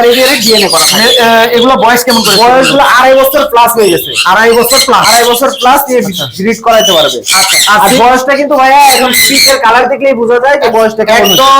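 Female sun conure parrots kept on a bird farm squawk loudly and almost without pause, their harsh, close calls overlapping in a dense chorus.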